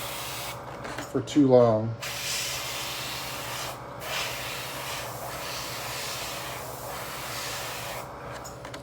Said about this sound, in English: You can hear my airbrush.